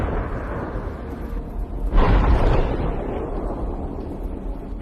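A Ukrainian tank round strikes a Russian armored vehicle in one heavy, booming blast midway through, rising sharply out of a low rumbling background and then fading into a lingering roar.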